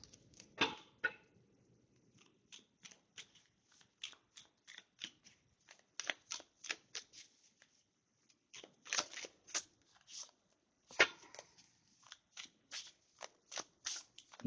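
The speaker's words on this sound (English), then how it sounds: "Let me get this deck." A deck of cards is shuffled in quiet bursts of crisp riffling and tapping, short rapid flurries separated by pauses, close and fairly soft.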